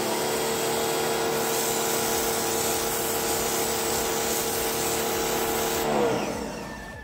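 A POWER FIT pressure washer sprays steadily through its wide rinse nozzle, a loud continuous hiss with a pump drone underneath, shifting slightly near the end.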